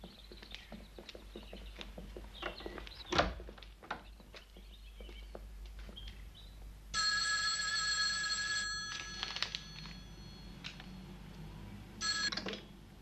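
A telephone rings twice in short bursts on an outgoing call, close and fairly loud, set against a busy, clattering indoor background.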